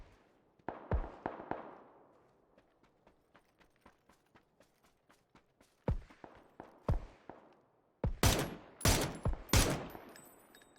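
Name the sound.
VSS rifle gunfire in PUBG video game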